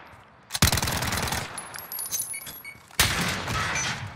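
Uzi bursts fire in a Modern Warfare Search and Destroy match, two loud, rapid strings of automatic shots, the first lasting over two seconds and the second starting abruptly near the end.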